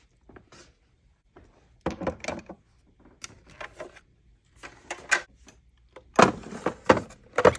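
A makeup drawer of foundations and primers slides open with a few soft, scattered knocks and rattles, close by and quiet, with brief clatters of items being moved and no talking.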